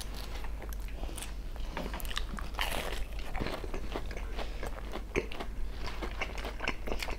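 Close, steady crunching and chewing of a fast food burger, with dense wet bites and mastication sounds continuing throughout at a soft, even level and no speech.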